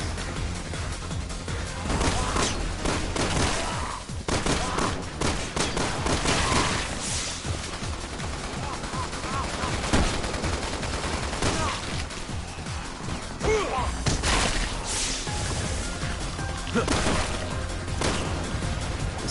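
Rapid gunfire from shooting enemies in a Resident Evil game, dense bursts of shots and crashing impacts running continuously at loud volume, with brief gaps between volleys.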